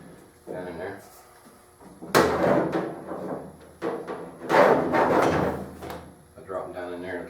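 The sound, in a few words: welding torch and leads dropped into a tool box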